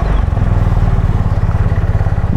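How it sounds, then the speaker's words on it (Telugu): A 2025 Honda CB350 H'ness motorcycle on a road test gives a loud, close, steady low engine thump with a fast even pulse through the whole stretch. "So we got Honda highness 350. So ఈ బైక్ ఎలా ఉందో రైడ్ రివ్యూ చేద్దాం."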